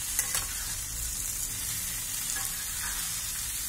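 Zucchini and shiitake sizzle steadily in a pan, a soft continuous hiss broken by a couple of quick clicks and stirring scrapes as the pieces are turned; no talking.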